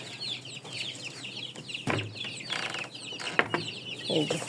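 Hens cluck busily up close while chicks peep, with a few thumps and rustles in the coop.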